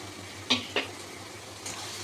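Onion with ginger and garlic paste is stirred in a pan for chana masala, with two crisp scrapes of a utensil against the pan and a softer one later over a low, steady hum.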